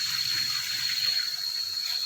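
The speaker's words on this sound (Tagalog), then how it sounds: "Running water." River water running in a newly found stream in the Philippines, a steady broadband rush of flowing water, close and continuous, with no voices over it.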